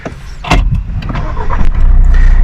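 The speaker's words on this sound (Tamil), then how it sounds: "இன்ஜின் ஸ்டார்ட் ஆயிடுச்சு." A Mahindra XUV700 starts up close by: sharp clicks and a brief crank, then the engine catches and settles into a steady low idle.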